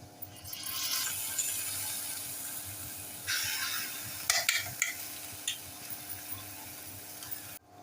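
Black masala paste for Maharashtrian kala chicken being sautéed and stirred in a pan over a low flame, with a steady soft sizzle and a few sharper scraping strokes, alone without talk.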